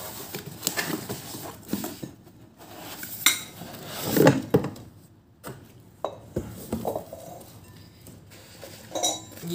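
A three-piece pearl chip and dip glass set is unpacked, its glass bowls clinking and knocking in scattered close bursts amid rustling, with short pauses between handling sounds and no talking.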